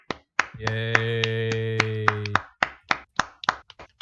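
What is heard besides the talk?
clapping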